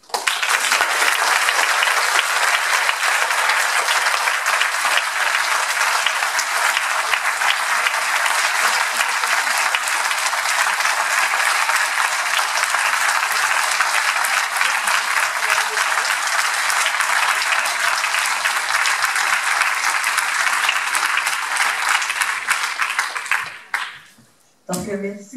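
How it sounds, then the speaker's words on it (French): Long, dense audience applause after a talk on recovery and stigma, loud and sustained for over twenty seconds before cutting off abruptly, with a voice briefly heard at the end. "Je pense qu'on peut calculer en fonction du nombre d'applaudissements qu'on vient d'entendre"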